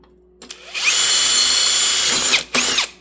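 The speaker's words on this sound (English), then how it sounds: "The drill wobbleth." A cheap power drill with a bent, wobbling bit whines at high speed, spinning up, running steadily for about two seconds, then briefly stopping and revving again, loud and close.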